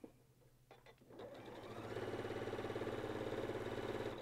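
A sewing machine stitches fabric blocks for a quilt, starting with a few light clicks, then running steadily in a fast, even, close mechanical whir that holds to the end.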